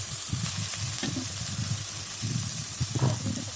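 Ground spice paste of cardamom and cinnamon being stirred with chicken in a pan, village style, a steady sizzle under soft irregular scraping and stirring strokes, close and alone.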